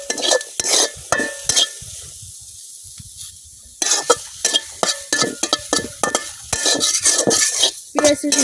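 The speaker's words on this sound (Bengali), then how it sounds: "এখন পেঁয়াজটা আমি বাজিয়ে নিতেছি।" Onion and garlic are dry-roasted without oil in a kadai, with repeated scraping and clattering stirring strokes, a short quieter pause, then more brisk close utensil scrapes over a faint sizzle.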